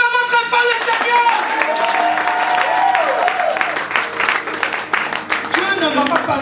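A church congregation bursting into loud applause and cheering during a French-language sermon, dense sustained clapping from a large crowd with voices and musical tones mixed underneath.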